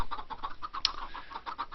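Chickens cluck steadily in a Minecraft-style game, a busy rhythmic chorus of short, overlapping clucks at close range with no talking.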